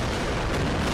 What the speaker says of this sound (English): You ain't hitting me with no rockets!